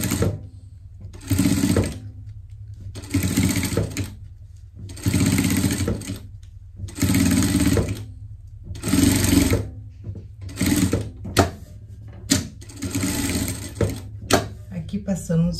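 A sewing machine topstitching a Christmas pet shirt, running in repeated bursts of steady motor whir with short pauses between, close and fairly loud, with a voice speaking in the gaps.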